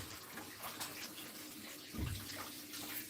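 A leaf of life herb is rinsed under a running tap, with a steady, fairly faint stream of water and a brief louder splash partway through.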